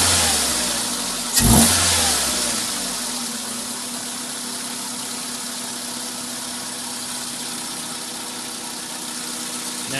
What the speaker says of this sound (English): give the throttle a bit of a blip every now and then